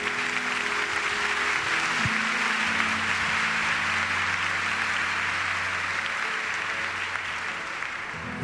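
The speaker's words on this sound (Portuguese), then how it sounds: "Vamos aplaudir para valer." A church congregation at a Catholic sermon applauds steadily for several seconds, broad even clapping with a faint sustained tone underneath.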